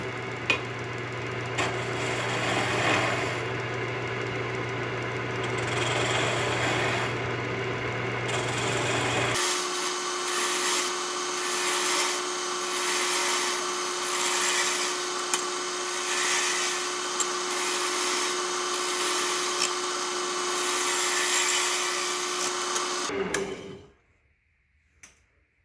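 A wood lathe spins a pen blank on a mandrel as it is turned down to the bushings, giving a steady loud whirring hum that shifts pitch partway through and then cuts out abruptly near the end, with no talk over it.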